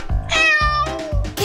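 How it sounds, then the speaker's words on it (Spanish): A cute kitten meows, one long drawn-out, clear, tonal meow framed by short softer calls, close and fairly loud with no voices over it. "¡Miren este lindo gatito!"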